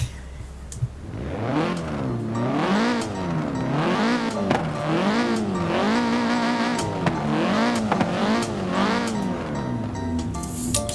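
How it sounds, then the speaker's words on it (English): A 2-litre four-cylinder Audi TTS revving in the racing game Forza Horizon 4, with a clear rising and falling engine note through repeated throttle blips, loud and close, with no talk. "It comes with a 2 litre 4-cylinder engine, bringing you 310-315 horsepower."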